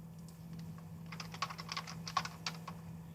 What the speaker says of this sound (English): Type my subject line.